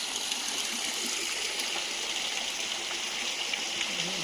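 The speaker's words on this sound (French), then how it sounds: "On a le bruit de l'eau" A mountain stream near a mill in Savoie flows with a steady, dense rushing hiss that holds even throughout, close and fairly loud with no voices over it.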